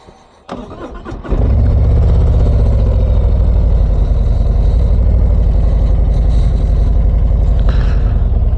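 A 2025 Harley-Davidson Street Glide Ultra motorcycle engine catches after a short starting noise, then settles into a loud, steady, close rumble that holds without a break.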